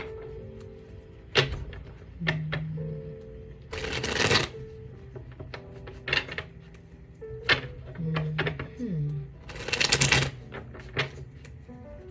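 Tarot cards are shuffled close by in several crisp riffling bursts, with softer taps and slides of the deck between them and no talk.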